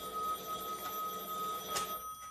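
A wall-mounted landline telephone rings indoors with a steady electronic trill, fairly quiet and unbroken throughout, with no talk.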